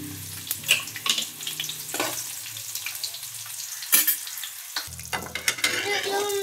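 Chillies stirred and sautéed with salt and turmeric in a hot pan, bursts of sizzling and frying with spatula scrapes against metal, close and moderately quiet.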